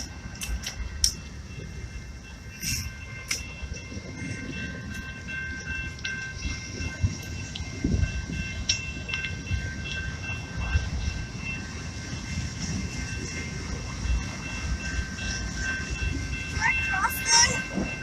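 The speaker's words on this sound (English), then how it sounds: "Okay, that's the train." A train rolls along a railway, a continuous low rumble and clatter with scattered metallic squeals and tones, while people talk nearby.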